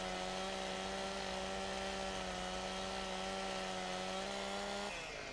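Chainsaw felling a tree in Landwirtschafts-Simulator 15, a steady, loud, droning engine whine held at a constant pitch, then dropping slightly near the end, with no talk.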